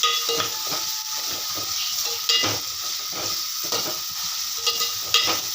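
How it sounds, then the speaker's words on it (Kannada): Onions frying in oil in a pan, a constant bright sizzle broken by repeated scraping stirs of a utensil against the pan, close and loud, with no talking. "ಈರುಳ್ಳಿ ಎಣ್ಣೆಯಲ್ಲಿ ಫುಲ್ಲು ಸ್ವಲ್ಪ ಕೆಂಪಾಗೋವರೆಗೆ ಫ್ರೈ ಮಾಡಬೇಕು"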